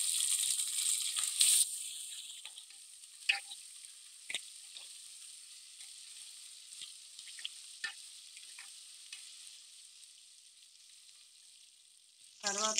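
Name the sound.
ginger garlic paste frying with onions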